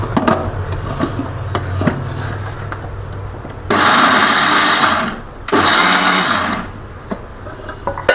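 A mixer grinder pulverizes dry fruits and flaxseed for laddu in two loud bursts of whirring, each a couple of seconds long and separated by a short pause, with quieter kitchen handling and rustling before and after.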